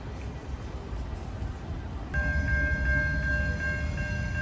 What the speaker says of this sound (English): So we have a rail train just passing by us right now.